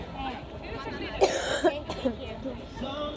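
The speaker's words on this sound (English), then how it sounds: "I'm coughing." A couple of short coughs break through amid nearby talking and background crowd chatter.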